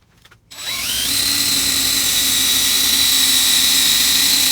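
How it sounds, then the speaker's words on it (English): A 3M eraser wheel on a drill spools up on a truck, rising quickly to a loud, steady high-pitched whine that holds for several seconds. "we'll chuck up our 3M eraser wheel"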